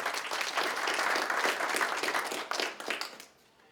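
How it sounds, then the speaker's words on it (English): Steady applause from an audience at a library donation ceremony hosted by a Turkish cultural center, dense clapping that holds for about three seconds before fading out. "Give you a round of applause."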